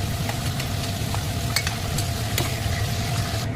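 Pieces of meat for a chicken curry shallow-frying in oil, a steady dense sizzle with scraping and clinks as the pieces are lifted out one by one, close and loud, no voices.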